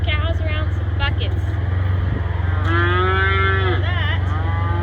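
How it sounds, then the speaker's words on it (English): Cattle crowd around mineral buckets and molasses tubs in a pasture, one cow letting out a long, close moo over a constant low engine idle, with shorter calls earlier. "So you see these cows around some buckets."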